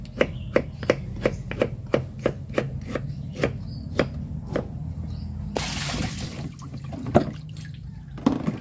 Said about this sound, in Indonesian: Nah, ini irisnya sedang aja, nggak perlu terlalu tipis.